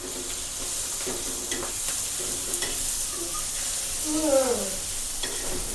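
Clams dropped into hot oil for an Agri Koli thala recipe, frying with a steady close sizzle and stirring, while voices talk briefly over it.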